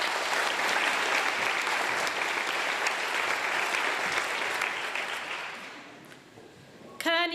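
Applause for a graduate with distinction at a college graduation ceremony, a steady dense wash of clapping from a large audience that thins and fades toward the end before a brief burst of other sound.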